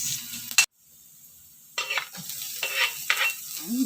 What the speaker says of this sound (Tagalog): maglagay ng mantika sa kawali. Ayan, then igisa yung bawang at sibuyas